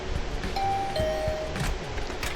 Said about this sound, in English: rang the bell by the side of the door